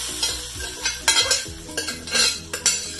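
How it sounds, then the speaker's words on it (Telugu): A spoon stirs tempering through foxtail millet, moong dal and fenugreek-leaf khichdi in a pan, giving repeated scraping strokes and metallic clinks over a soft sizzle, close and fairly loud with no talking. "ఇది పోపు వేసేసుకోవడమేనండి కిచిడీని."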